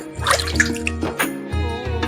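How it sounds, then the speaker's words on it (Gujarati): Water poured over a young sprouting plant in a village home garden gives a steady, close splashing trickle that lasts about two seconds. "હવે એને પાણી ખાઈ દઉં એટલે ઉગી જાય"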